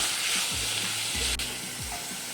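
Tomatoes with salt fry in a pan, giving a steady close sizzle with a couple of soft scraping strokes from a spatula moving through them.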